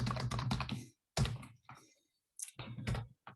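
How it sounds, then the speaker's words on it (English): Someone types on a computer keyboard in quick close bursts of clacking keystrokes, separated by short pauses, with no talking. "So I exactly type that name."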